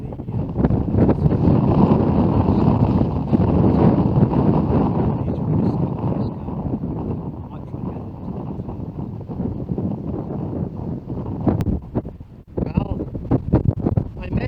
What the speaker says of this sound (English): I can hardly stand up against the wind here